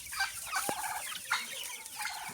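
Young Wyandotte-type chicks in a small, crowded pen make high cheeps and soft clucks, several short calls over a busy, steady background of flock noise.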